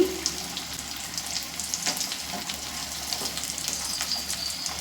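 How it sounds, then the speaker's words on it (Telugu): Veg puffs deep frying in very hot oil for an evening snack, giving a steady, dense sizzling hiss with a watery, bubbling texture throughout, close and continuous with no speech. "చాలా బాగా ఫ్రై అవుతున్నాయండి"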